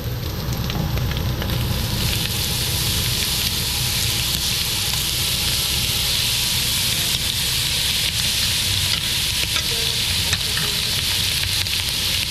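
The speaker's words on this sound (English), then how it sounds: "So we want to put our butter in." Butter melts in a hot pan over seared pieces dusted with garlic powder, producing a loud, dense, unbroken sizzle and crackle that holds steady throughout, close to the mic, with no one talking.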